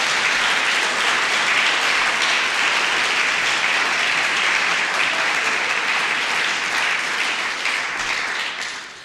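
Audience at the EMPA 2017 graduation ceremony applauding and cheering, a loud continuous wash of clapping that fades slightly at the end.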